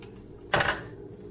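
A heavy cooking pan is handled once mid-clip, giving a single loud metallic clatter against faint kitchen background.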